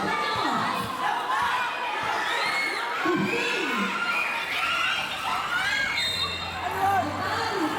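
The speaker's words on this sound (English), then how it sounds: "there is quite a passionate fan frenzy throughout the game, as heard by the loud roars from the crowd" A crowd at a local basketball game in Catanduanes, Philippines roars and shouts loudly throughout, with children yelling, cheering and chatter blending into a constant din, and occasional ball bounces underneath.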